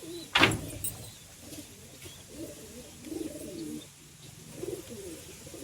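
Pet pigeons coo softly in a series of low, rolling calls spread across the stretch, preceded by one sharp knock or flutter; the birds sound near but faint, with no talk.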